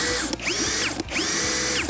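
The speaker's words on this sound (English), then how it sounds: "We'll go at high speed on a drill setting here." Compact cordless Temu drill spinning at high speed on its drill setting, a loud steady whine with repeated rising and falling pitch sweeps and ratcheting clicks, close and alone.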